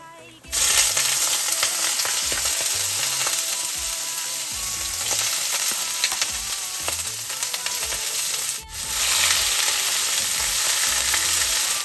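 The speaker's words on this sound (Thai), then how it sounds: "ใส่กระเทียมลงไปผัดก่อนนะคะ เจียวกระเทียมให้เหลืองหอมเลยค่ะ" Garlic stir-frying in oil in a pan until golden, a loud steady sizzle that starts abruptly, with stirring and a short dip before the hiss resumes.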